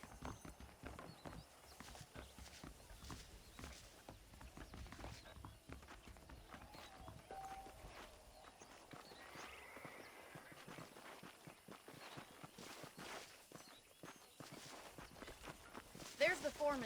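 Horses being ridden in the Western game Red Dead Redemption give steady clip-clop hoofbeats and footsteps throughout, moderately loud and mixed under ongoing speech and game ambience.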